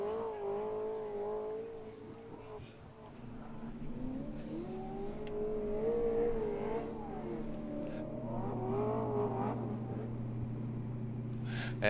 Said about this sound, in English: Odi Bakchis warming up his tires